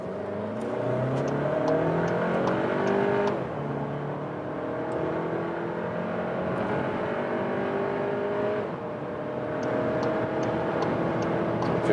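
A 190 hp all-wheel-drive VW car accelerates hard from about 40 km/h, its engine note climbing steadily through gear changes in a sustained, loud, close-up roar with brief dips between shifts.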